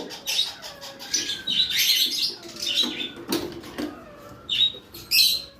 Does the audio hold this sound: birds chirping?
yes